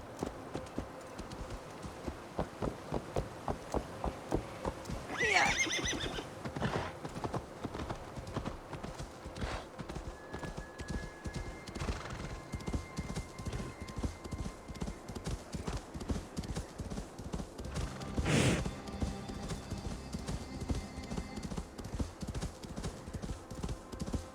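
A horse in Assassin's Creed Valhalla trots with a steady, continuous clip-clop of hooves, fairly quiet, broken once or twice by a brief neigh.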